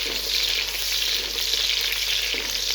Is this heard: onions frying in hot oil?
yes